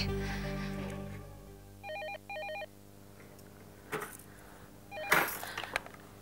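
A telephone rings in short electronic bursts, then knocks and handling clatter follow in a quiet room.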